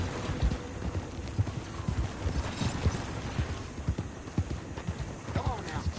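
Horse hooves clip-clop at a steady trot in Red Dead Redemption 2, close and rhythmic over six seconds, with a brief whinny near the end and a voice speaking over the gait.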